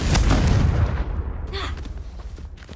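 A blasting spell cast in the video game Hogwarts Legacy, a loud booming explosion that rumbles and fades over a couple of seconds, followed by a faint shimmering sparkle.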